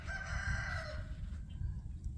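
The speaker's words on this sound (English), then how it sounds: "You hear the chickens and roosters." Roosters crow among chickens at a homestead coop, a clear crow rising and fading in the first second over a low steady rumble, then faint clucking, heard from a short distance.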